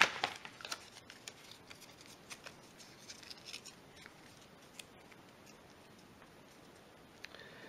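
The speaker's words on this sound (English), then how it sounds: "I also just tear bits of paper" Bits of paper torn by hand while building a stomp rocket, a series of faint, short crisp rips and crackles at an uneven pace, quieter toward the end, with no talk.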